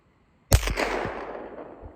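A single sharp Vudoo rifle shot fired outdoors in the snow at a 4-inch target, loud and close, with a sudden blast followed by a long rolling echo that fades over more than a second.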